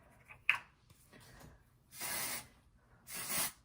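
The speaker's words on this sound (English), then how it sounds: "And get some hairspray in it" Hairspray sprayed onto hair in two separate hissing bursts of about half a second each, close and fairly loud, after some faint handling rustles and a small click.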